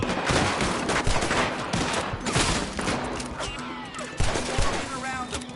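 Gunfire in Red Dead erupts as a continuous fusillade of rapid shots mixed with shouting voices and a busy game soundtrack, loud and dense throughout.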